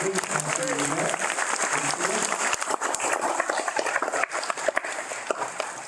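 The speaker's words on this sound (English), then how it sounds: "Let's give a round of applause to our veterans from the veterans" A commencement ceremony crowd applauds veterans, dense clapping filling the hall with a continuous rattling texture, while voices murmur and speak beneath it.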